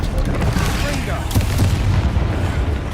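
Confringo fire-spell blasts in Hogwarts Legacy combat, dull, heavy booms rolling over continuous battle noise, with a player's voice calling out over the action.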